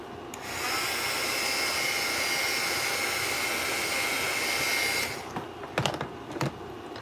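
A handheld dryer blows a steady, loud whir over wet paint on a craft project for several seconds, then switches off, followed by a few light taps and clicks.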